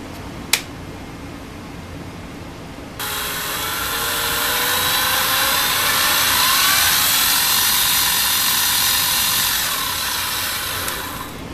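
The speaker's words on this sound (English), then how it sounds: "make sure the spindle still works" A CNC mini mill's spindle motor, its gears freshly greased, starts up after a click and runs steadily with a continuous whirring hum, growing slightly louder before settling, with no talking.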